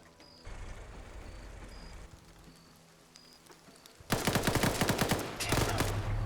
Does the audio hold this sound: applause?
no